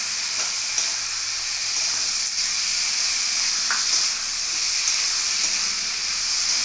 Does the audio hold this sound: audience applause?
no